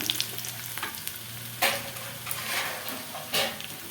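Crushed garlic and dried red chillies fry in oil for a Tamil chicken varuval, a close, steady crackling sizzle with a few louder bursts as the pan is stirred.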